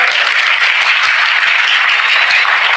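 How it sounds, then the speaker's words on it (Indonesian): Dense, loud applause from a large crowd at a religious gathering, continuous and even from start to finish with no talking. "Tepuk tangan."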